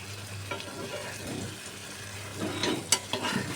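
Tortang talong, an eggplant omelette with egg, frying in a pan with a steady soft sizzle and a few sharper crackles and pops toward the end, no voices.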